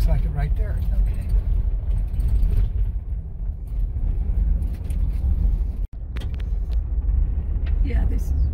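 A vehicle rumbles along a winding mountain road with switchbacks on the way to the Crown King ghost town. The low engine and road noise continues steadily under the interior cabin sound, and there is one brief dropout.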